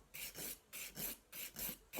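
A nail file rasping hard gel off a fingernail in steady back-and-forth strokes, six or so close, soft scratchy passes in an even rhythm with no talk.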